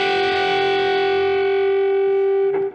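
An electric guitar with distortion and effects plays part of a riff, one loud sustained note ringing steadily before a brief change near the end, close and alone.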